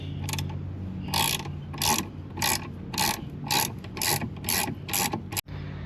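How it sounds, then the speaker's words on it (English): Ratchet wrench working on the front axle of a Triumph Daytona 675 motorcycle, with about nine loud, evenly spaced bursts of rapid close clicking and a sharp knock near the end. "Switch over to the wrench."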